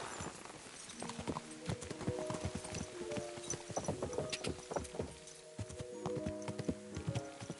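Horse hooves clip-clop in a quick, steady rhythm for several seconds in the video game Kingdom Come: Deliverance II, with a faint tonal background beneath the hoofbeats.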